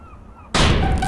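A single loud, booming cannon shot in a video game, Garten of Banban II, bursts in suddenly after a quiet moment, then rumbles on as it fades.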